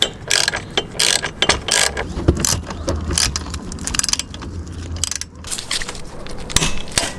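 A ratchet socket wrench tightens 14 mm bolts while a center stand is installed on a Suzuki V-Strom 800 motorcycle, giving close, repeated bursts of sharp clicking strokes with brief pauses between them.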